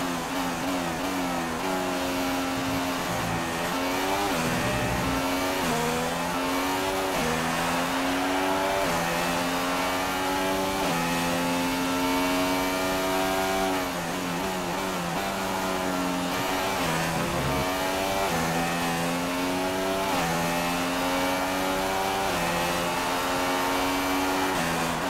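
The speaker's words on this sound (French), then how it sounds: "on vous a laissé profiter un petit peu du moteur Honda de cette McLaren" The Honda engine of a McLaren Formula 1 car in F1 2016 screams at high revs, a loud continuous buzzing whine with rising and falling pitch sweeps through gear changes over a long stretch.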